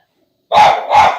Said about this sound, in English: Not one, but two dogs.